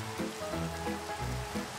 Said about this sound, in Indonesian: Aduh, hujan. Hujan bro, hujan bro.